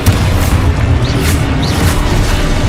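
Booming blasts from the Confringo spell in Hogwarts Legacy, a loud continuous low rumble with no voices.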